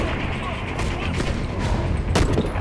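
Gunfire in the online shooter Warface during an assassination-mode match, a dense stream of rumbling shots and booms with one sharp louder burst near the end, while a player talks over it.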